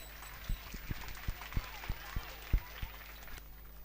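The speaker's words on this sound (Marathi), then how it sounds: "या सगळ्या विद्यार्थ्यांसाठी आणि पालकांसाठी जोरदार टाळ्या होऊन जाऊ द्या." An audience at a school gathering claps for students and parents, with light, scattered applause punctuated by several sharp, louder thumps at irregular intervals, fairly quiet overall.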